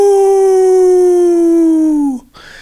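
A man imitates a wolf howl in a hoarse voice: one long, loud, close howl held steadily and sliding slightly downward before breaking off abruptly.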